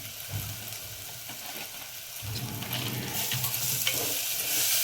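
Spices with coriander powder fry in a pan, a steady close sizzle with scraping stirring strokes that grows louder toward the end, with no one talking.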